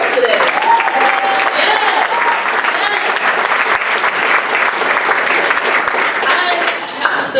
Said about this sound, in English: Clap for me if you're excited to close your deal here at Yelp